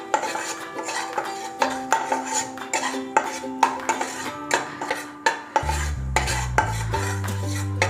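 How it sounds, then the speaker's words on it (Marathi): Gram flour roasting in oil in a kadai, with a spatula scraping and knocking against the pan in a quick, repeated rhythm near the mic, while music comes in toward the end. "थोडं गोल्डन कलर येईपर्यंत भाजून घ्यायचं"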